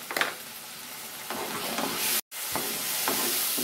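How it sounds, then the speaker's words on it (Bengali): Onion-garlic paste, tomato, turmeric and salt being stirred in a pan, a steady sizzle with scraping strokes of a spoon recurring every second or so, close and moderately loud, with a brief dropout midway. "ভালো করে মিক্স করে নিচ্ছি"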